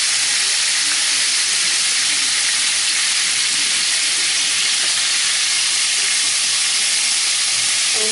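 Rabbit pieces browning in a hot pan give off a steady, dense sizzle that holds evenly throughout, close and unbroken, with no talking.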